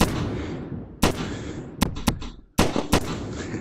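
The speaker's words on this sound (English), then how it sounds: "This actually feels very similar to one of the weaker hand cannons in the game." Hand cannon shots in a developer's indie shooter, five or six loud sharp blasts spaced unevenly, each with a booming tail that decays before the next.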